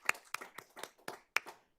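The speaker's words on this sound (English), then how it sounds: "Let's give all the presenters a round of applause" Sparse, faint hand claps from a small group at a school board of trustees workshop meeting, about eight separate claps spread unevenly over a couple of seconds, sounding thin and distant rather than like full applause.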